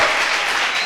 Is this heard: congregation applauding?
yes